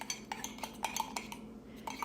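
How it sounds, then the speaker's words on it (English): A fork beats eggs in a mug, a run of quick light clinks and taps against the ceramic in an uneven rhythm, close and fairly soft, with no voices. "So, fork, and all you do is mix it up."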